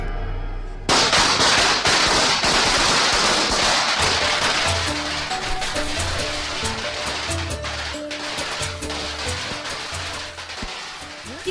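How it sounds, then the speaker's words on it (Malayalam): Firecrackers burst in a dense, loud crackling barrage during a festive street celebration, the rapid pops running continuously for about ten seconds with a steady rumble beneath. "പതിവില്ലാത്ത പടക്കം പൊട്ടിക്കലും തോരണം തൂക്കലും"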